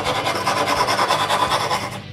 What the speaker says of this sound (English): After, I need to file the interior of the slots.